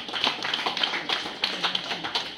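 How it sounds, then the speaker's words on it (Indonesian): Applause at a village gathering in Kampung Bukit Baru Dalam, Melaka: a small group clapping in a light, uneven patter, moderately close, without talk. "Tepukan untuk usaha"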